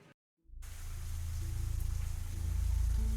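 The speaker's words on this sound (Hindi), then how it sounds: "बारिश का अनिश्चित नाच" Rain falling during India's monsoon, a steady low rushing wash that starts after a brief silence and swells slightly louder toward the end.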